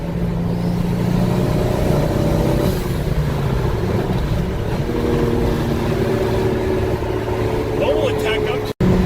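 Car engine revving and accelerating hard, a steady loud drone with rising and falling pitch throughout, while people talk over it.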